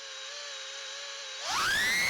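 Onboard sound of a Mobula 7 HD FPV drone in flight: a steady, high motor and prop whine that suddenly surges louder and climbs in pitch as the throttle punches up.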